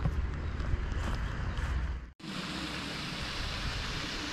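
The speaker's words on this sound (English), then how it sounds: "It's starting to rain." Steady rain hissing down on a mountain trail on Mont Salève in France, a dense continuous wash with no voices, cut briefly by a short gap before resuming.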